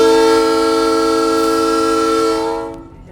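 A locomotive horn sounds one long, steady, chord-like blast from the cab during a ride at the Pacific Southwest Railway Museum in Campo. It holds loud and close for about two and a half seconds, then quickly fades.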